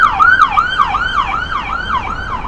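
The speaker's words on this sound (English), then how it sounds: "Ambulance." An ambulance siren wails on a New York City street, its repeating rising-and-falling yelp loud and close over steady traffic noise, with no talking.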